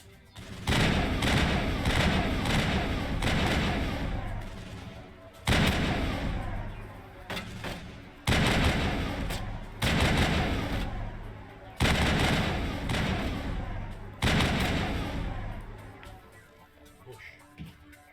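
Shotgun fire in the video game Mass Effect: loud, booming blasts come in repeated heavy bursts separated by brief gaps, close and dominant throughout.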